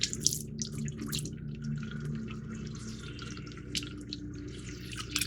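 A plastic model kit seat for a 1:48 Panavia Tornado is rinsed under a running tap, a soft steady trickle of water with small splashes and drips, close by and quiet, with no speech.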